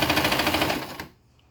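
Sewing machine running a zigzag stitch along an elastic band for a bonnet cap, a steady rapid mechanical rattle up close that stops abruptly after about a second.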